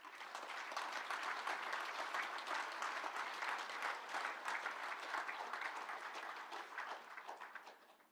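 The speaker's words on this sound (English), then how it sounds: "So give yourselves a huge round of applause." Applause fills a virtual graduation ceremony, a dense, steady clapping from many hands that holds evenly and fades out at the end.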